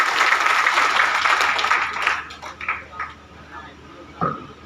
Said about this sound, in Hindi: हम सभी अपने लिए तालियां बजाएंगे।